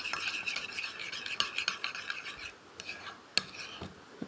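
A spoon stirs and mixes food in a bowl for a child's breakfast, giving soft close scraping and clinking strokes that end in a few sharp metallic taps.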